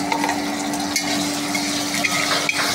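Bitter gourd frying in hot oil in a pan, loud continuous sizzling close up, with repeated scraping and clinks as the pieces are stirred.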